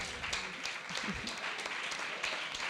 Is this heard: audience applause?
yes